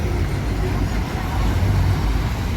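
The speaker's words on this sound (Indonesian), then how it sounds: "Nah ini ada bus apa nih" A Haidek Trans bus rolls past on the road with a steady, loud low engine rumble and road roar that holds throughout, while a voice talks faintly underneath.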